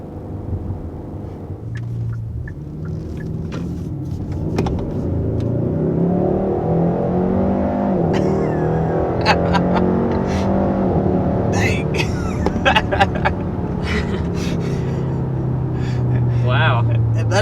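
A 2021 Hyundai Sonata N-Line with a dual-clutch gearbox accelerates hard, its engine note climbing through rising sweeps and dropping at quick paddle shifts. The loud, steady rumble and whir carry on to the end.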